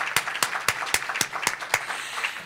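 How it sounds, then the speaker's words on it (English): Applause at a Corks & Forks charity dinner for the Topeka Country Club, with sharp, separate claps rising and falling in uneven bursts across a moderately loud, close-up roomful of people, fading toward the end. "how about a round of applause for the Topeka Country Club?"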